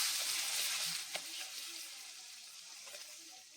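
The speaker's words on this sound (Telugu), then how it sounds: "మసాలా అంతా వేసి కొంచెం మంచిగా ఫ్రై చేసుకొని" Masala with garlic paste fries in a pan, giving a soft, steady sizzle with a few faint clicks and stirring scrapes, quiet and close.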